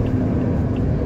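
Busy night traffic in East Karawang, with buses and cars passing, forms a continuous low rumble of engines and tires, steady and moderately loud with no voices.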